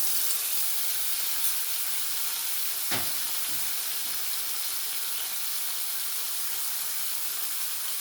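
A ground paste of coriander, black pepper and cumin with turmeric sizzles in a pan while being cooked down for a vegetarian green banana curry. The frying is a steady, close hiss, broken once by a brief scrape of stirring.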